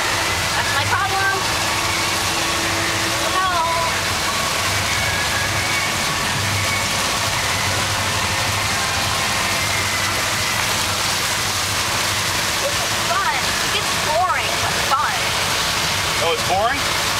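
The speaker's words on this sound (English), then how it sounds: "Of course the wind's blowing." Steady wind rushing over an open boat on the water, a constant broadband roar throughout with a low engine-like hum, while an adult and someone talk over it.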